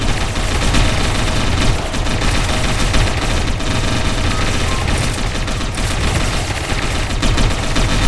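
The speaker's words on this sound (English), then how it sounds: "I'm gonna shoot you from your own defensive walls" Heavy automatic gunfire from defensive wall positions in Satellite Reign, a dense unbroken barrage of rapid overlapping shots, loud and close throughout with no pauses.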